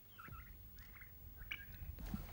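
A male turkey gobbles in a farmyard setting, three or four rapid rattling gobble bursts spaced across a couple of seconds, moderately close but fairly quiet, with no talking.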